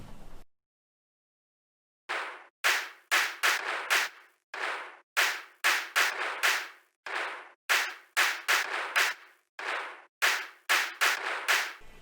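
Sharp clap samples in a hip-hop beat, made to feel like hands beating on a school lunch table, snap out in quick syncopated bursts after a short pause, dry and loud with no voices.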